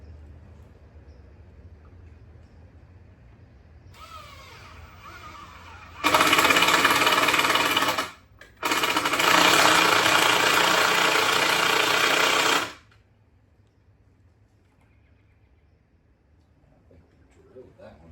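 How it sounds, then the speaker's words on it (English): Power drill boring a hole in a shop, one loud sustained whine lasting several seconds with a brief break in the middle, close up, with quiet shop background before and after. "Drilled that one."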